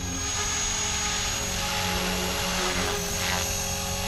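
Steady loud rotor whine and motor buzz from a Blade Fusion 360 radio-controlled helicopter hovering close while coming in to land, constant and unbroken throughout.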